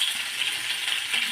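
Fish frying in hot oil in a pan, a steady close hissing sizzle with faint crackles and no talking.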